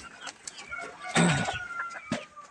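Racing pigeons in their loft before feeding make soft coos and flutters close by, with scattered scuffling and a brief louder burst of wing or body movement in the middle, fairly quiet overall.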